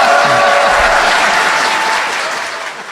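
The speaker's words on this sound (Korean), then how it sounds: "박수 부탁드립니다." A room full of people claps in steady applause, loud and close, slowly fading toward the end.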